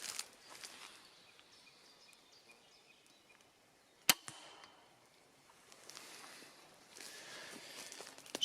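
A single sharp crossbow shot fired rapidly from a standing position at a target 15 metres away beside a tree outdoors, a lone crisp snap standing out against quiet ambient background with distant birds.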